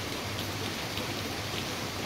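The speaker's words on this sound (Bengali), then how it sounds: "এখন আবার ঝমঝমে বৃষ্টি।" Heavy rain pours down on a residential housing complex after a night of rain left water pooling, a steady, dense, even hiss with no talk.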